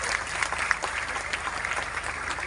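Audience applause for the mayor at a joint Christmas celebration in Surabaya, a steady, dense clapping from a crowd that holds throughout at an even level.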